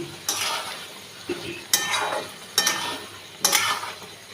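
Jhinge aloo posto, ridge gourd and potato with poppy seed, is stirred in a pan: four distinct scraping strokes of a spatula against metal come at a slow, irregular pace over a faint sizzle, close and clear.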